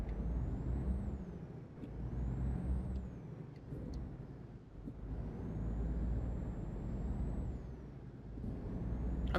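DAF truck engine droning in Euro Truck Simulator 2 with repeated sharp hisses of the air brake, a steady low rumble underneath whining gear tones that rise and fall.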